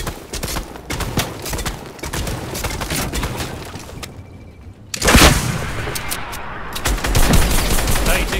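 Rapid bursts of gunfire in the Fortnite video game, loud and dense with repeated shots throughout and a brief lull midway before firing resumes even heavier.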